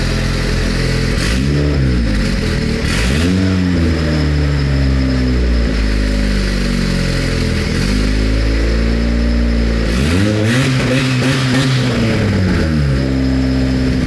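A replica Bugatti Veyron built on a Honda Civic revs hard and loud up close, its engine note rising and falling in repeated sweeping pulls with no talk over it.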